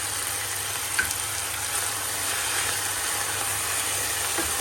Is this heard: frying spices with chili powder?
yes